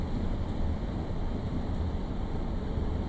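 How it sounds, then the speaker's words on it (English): Steady, loud rushing wind and low rumble in Train Sim World with a Class 142 train on the Blackpool branch lines, continuous and unbroken with no talking. "Well, I suppose it's a little bit windy, isn't it?"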